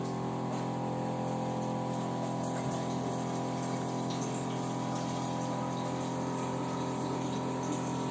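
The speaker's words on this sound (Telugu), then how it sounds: "కెంగన్ వాటర్ ప్రాసెస్ చేస్తున్నాము." A Kangen water ionizer machine runs steadily, a continuous pump hum with water flowing and gushing as it dispenses water, alone and unbroken throughout.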